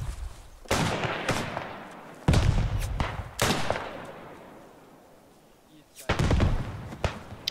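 Madsen light machine gun in Beyond The Wire firing short sharp bursts, several loud cracks separated by gaps with echoing tails, close by, with scattered distant shots between.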